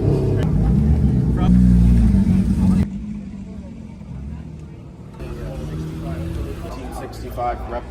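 A 1965 Cobra replica at an outdoor car show idles and rumbles with a loud engine for a few seconds, then drops to a quieter background drone as someone talks nearby.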